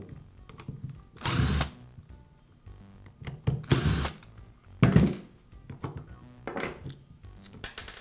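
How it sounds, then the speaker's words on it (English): The rear cover is worked off a Makita drill during a repair, giving a few close, sharp bursts of plastic scraping and clicking separated by quiet handling noises. "I'll begin by removing the rear cover."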